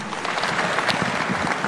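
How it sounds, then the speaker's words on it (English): Conference delegates at the Bomas of Kenya, at the Third National Wage Bill conference, applaud His Excellency with a steady, even wall of clapping that stays constant and moderately loud for the whole short stretch. "One more round of applause for His Excellency"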